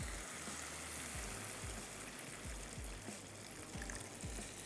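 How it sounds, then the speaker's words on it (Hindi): About a cup of water pours into lentils cooking in a pan, a continuous splashing, sizzling rush with a few soft clunks underneath. "तो मैं इसमें अब ऐड कर देती हूँ तकरीबन 1 कप पानी"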